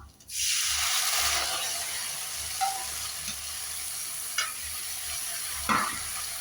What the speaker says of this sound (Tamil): இது ஒரு ஸ்பூனு கோர்ன் கோர்ன்ஃப்ளவர் கோர்ன்ஃப்ளவர் மாவு கரைச்சி ஊற்றிடுவோம்